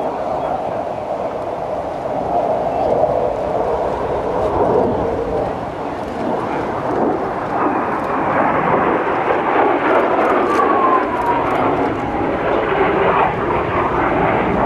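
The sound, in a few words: F/A-18 fighter jet fly-by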